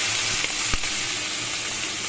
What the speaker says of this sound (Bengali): এবার চিংড়িগুলো একটু ভাজা ভাজা করে তুলে দেবো